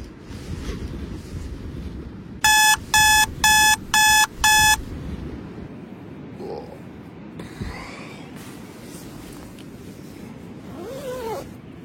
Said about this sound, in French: Les gars, c'est le réveil.